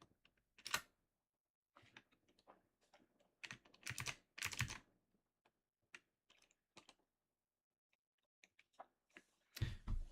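Computer keyboard typing comes in scattered bursts of quick clicks, fairly faint and close, separated by silent gaps, with a louder cluster near the end.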